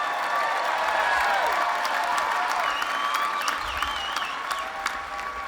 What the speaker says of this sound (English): Let's have a big round of applause for your 2018 University of Redlands School of Business graduates